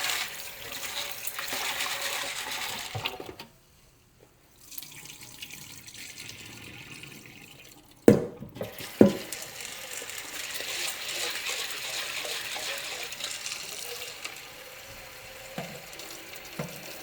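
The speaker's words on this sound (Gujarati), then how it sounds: "હવે એને મસ્ત ધોઈ દઈએ પાણીથી 3-4 વખત" Soaked lentils for dal being rinsed under a kitchen tap, water gushing and splashing into a vessel in several bursts, with short pauses and a couple of sharp knocks between rinses.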